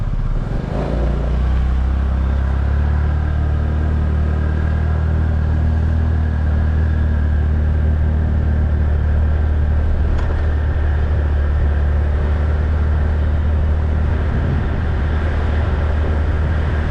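Motorbike engine running steadily throughout a ride in Phuket, Thailand, a loud continuous low rumble with wind noise and no talking.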